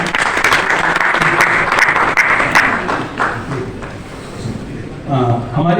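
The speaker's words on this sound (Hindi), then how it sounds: "इनके लिए भी तालियां हो जाएं।" An audience at a national honour award ceremony applauds sponsors, steady clapping that thins out over several seconds while someone speaks into a microphone over it and continues after it fades.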